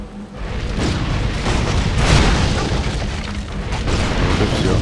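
Loud, rumbling explosions in the video game Torchlight 2 roll on continuously, a dense booming blast with deep low rumble and crackling debris throughout.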